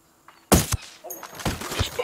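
Two sharp, loud gunshots ring out close together in Ghost Recon Wildlands, followed by muffled voices and scattered impacts.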